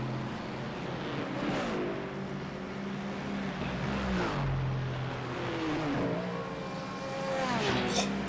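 Two GT3 race cars and a hypercar roar past on track in a Silverstone sim-racing event, engine notes rising and sweeping down in pitch as each car passes close, loud and continuous, with commentary faintly underneath.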